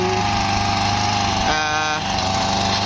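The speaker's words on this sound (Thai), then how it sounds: "พามาชมรถควนดินเล็กนะฮะเป็นเครื่องยนต์ อารมณ์เหมือนเครื่องตัดหญ้า" Small Ryobi 43cc two-stroke petrol tiller engine running steadily close by, a buzzy lawn-mower-like drone with a constant pitch and a brief rev change midway, no talk over it.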